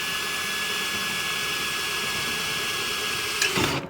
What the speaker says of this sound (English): I'm gonna drill this hole about 4 inches back from where the collector starts